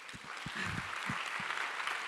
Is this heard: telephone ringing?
no